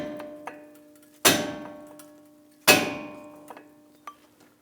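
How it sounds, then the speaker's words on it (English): A hammer drives a punch against a front brake clip on a 2015-2022 Chevrolet Colorado: two loud, ringing metallic strikes with decaying tails, framed by several lighter taps and clinks, close up with no talking. "Now I'm going to take a punch and a hammer and hammer it out towards the center."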